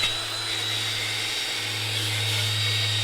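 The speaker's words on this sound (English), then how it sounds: "I'm definitely focusing on all of the spots that are rusted to kind of grind all that rust off" A power grinder works steadily on rust spots of a Weber MasterTouch charcoal grill, giving a continuous loud whine with a low hum underneath.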